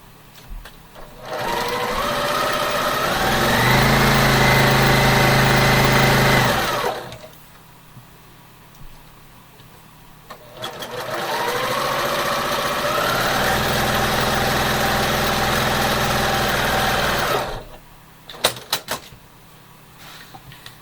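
A sewing machine runs two long, steady stitching passes along a quilt seam, each several seconds, ramping up, holding a fast even whir, then stopping, with a quiet pause between and light handling clicks afterward.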